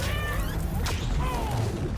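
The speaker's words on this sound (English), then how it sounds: "Other side missions throughout the game include saving Spider-Man the cat, which earns you this very unique suit" A cat meows in the video game Spider-Man: Miles Morales, a few short mewing cries rising over a steady low background rumble, fairly clear but not close.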